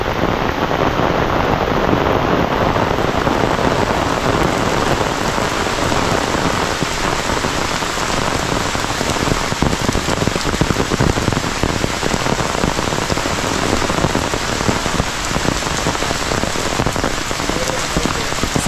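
Rain pours steadily over a village, a dense, constant hiss of drops striking surfaces, close and loud from start to finish with no voices.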